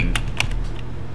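Typing on a computer keyboard: a short run of quick, light key clicks, close and clear, with no talking.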